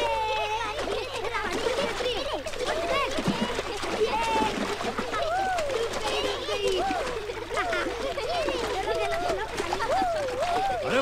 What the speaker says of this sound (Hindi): बंद करो ये नहाना